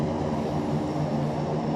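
An Airbus A400M military transport flies in Flight Simulator X, giving a steady, continuous propeller and engine drone that holds at an even level throughout.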